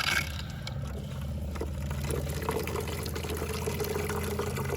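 Antifreeze poured from a jug into an RV shower basin during winterization, a steady gurgling liquid stream running continuously under a low mechanical hum, fairly close and even in level.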